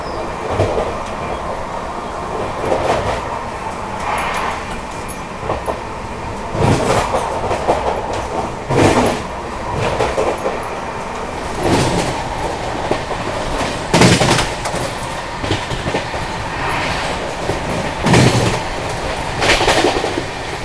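An AC superfast express train on the Delhi to Vaishno Devi route rushes along at speed near Sonipat and Narela, a loud continuous rumble broken by rhythmic clickety-clack bursts from the wheels over rail joints.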